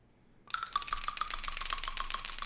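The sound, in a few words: coin toss in a tabletop football game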